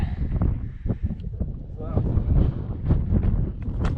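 Wind gusts on a mountain summit in the Presidential Range, buffeting the microphone in uneven low rumbles and pops, loud and close, with people talking throughout.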